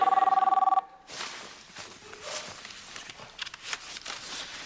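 A telephone rings in rapid, evenly pulsed bell bursts for under a second, then cuts off, followed by soft room noise and shuffling movement.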